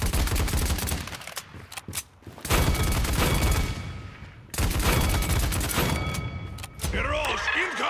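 Rapid bursts of gunfire and blasts from the Barrage ability in Paladins, loud and repeated in several separate volleys with short pauses between them, with voices speaking over parts of it.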